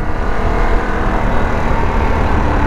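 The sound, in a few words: Harley-Davidson Pan America 2021 motorcycle engine revving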